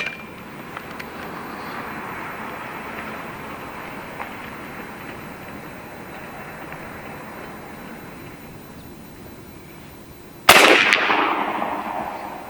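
A single sharp shot from a B&W Bin Tac M50 PCP air rifle on an outdoor range, a loud crack near the end followed by a brief decaying ring after a long stretch of quiet, steady background ambience.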